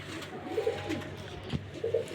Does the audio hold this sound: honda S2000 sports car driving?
no